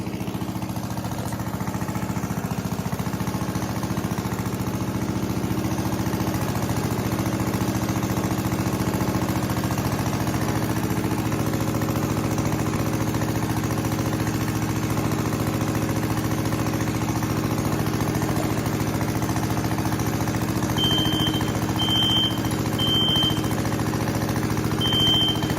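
A late-1940s Clinton small engine on a cycle bar mower chugs steadily at idle, close and fairly loud, a constant low rumble with no talking, a few faint high chirps near the end.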